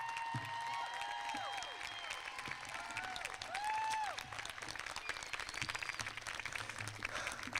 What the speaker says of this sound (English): Please join me in a round of applause for the senior class of 2021 yet again.